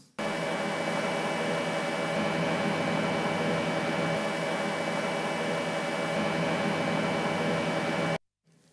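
A microphone noise recording captures a loud measuring-device cooling fan as a steady, even broadband whir that holds for about eight seconds, then cuts off abruptly.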